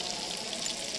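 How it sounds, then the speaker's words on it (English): Chicken frying in a pan, a steady close hiss of crackling and sizzling fat that stays even throughout with no talk over it. "I can hear it crackling and sizzling away"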